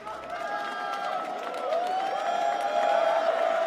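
Crowd noise swells at an esports fighting-game grand final, a sustained roar of cheering that builds over a few seconds, heard from within the arena.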